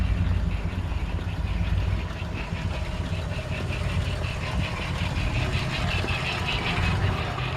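A 1938 Ford truck's flathead V8 with dual exhaust idling steadily nearby, a low, even rumble with a faint ticking mechanical rhythm throughout.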